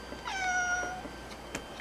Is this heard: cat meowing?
yes